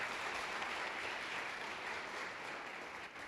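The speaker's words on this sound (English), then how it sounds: "if we give him a round of applause" A faint, even wash of audience applause at a school safety forum, held steadily throughout without any talk over it.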